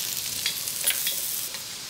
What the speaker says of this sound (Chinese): 然后炒香，使它们焦糖化，你会闻到很浓的大蒜和辣椒的香味